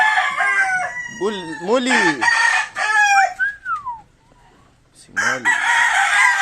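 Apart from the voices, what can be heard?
roosters crowing, Sweater and White Kelso chickens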